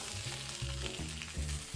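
Steak frying in a hot pan gives a steady close sizzle with soft stirring and scraping, loud and continuous, no voices over it.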